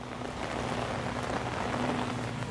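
Steady heavy, slanting rain pours down, a dense hiss of drops pattering on surfaces close by, with no voices.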